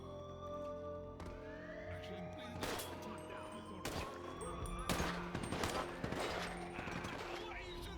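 Gunfire from a video game, with several sharp shots and bursts scattered across a dense, busy mix of game sound and music, with talk over the top.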